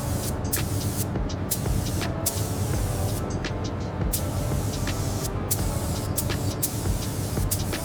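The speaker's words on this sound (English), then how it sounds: "the gray primer goes on wet. Maintain a consistent overlap for a flawless finish" Gray primer spray-painted onto 1974 BMW R90S motorcycle parts, a steady close hiss of spray with short bursts and pauses, broadband and continuous without voices.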